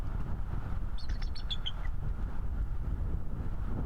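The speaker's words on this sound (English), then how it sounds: "Birds making noise." Small birds chirp outdoors near the coast, a brief cluster of high twittering calls rising over steady wind and low rumbling noise.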